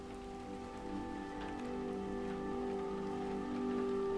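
Drizzling rain in the survival game Cataclysm: Dark Days Ahead gives a faint, steady patter under a soft layered background drone, continuous throughout and quiet, with no voices.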